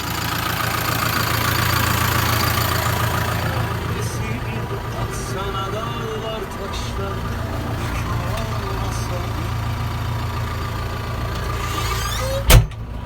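A Massey Ferguson MF 5445 tractor engine idles with a steady low chugging rumble throughout, and a sharp clunk cuts through near the end.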